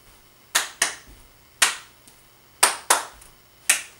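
Flash mob members clap in rhythm outdoors, a dance-routine pattern of sharp, crisp claps: a quick pair, a single, another pair, then a single, with short quiet gaps between.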